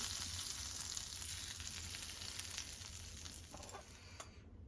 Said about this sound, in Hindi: ये छौंक हम दाल में मिक्स कर देंगे